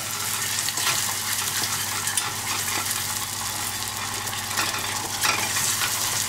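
Butter whisked vigorously into hot caramel in a saucepan, a continuous bubbling sizzle with steady scraping strokes of the whisk, close and loud.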